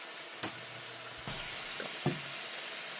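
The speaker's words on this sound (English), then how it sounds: "we'll cook the onion till they're like transparent, and mix them in with the ground beef" Onion cooks with ground beef in a pan, making a steady soft sizzle with a few light knocks and scrapes from a utensil, quiet and close.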